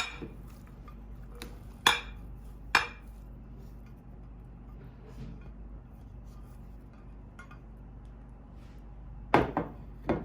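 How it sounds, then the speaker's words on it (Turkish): Cucumber, potato and other salad ingredients being stirred together in a bowl with strained yogurt: a few sharp, sparse clinks of a spoon against the bowl, close by, over a quiet room with long pauses between strokes. "Ve şöyle bütün malzememizi karıştırıyoruz arkadaşlar"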